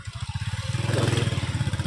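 A motorcycle engine runs nearby with a rapid, regular pulsing thump that builds slightly in loudness, a close mid-pitched chugging throb with faint clatter and no talk over it.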